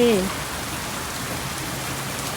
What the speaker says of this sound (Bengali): দেখুন কি জোরে বৃষ্টি এসেছে